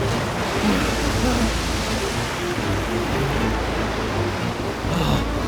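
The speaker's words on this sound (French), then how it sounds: "Les vagues sont très grandes!" Large waves crash and surge in a violent storm at sea, a dense, continuous roar of churning water and wind filling the whole clip at steady loudness, with faint voices buried underneath.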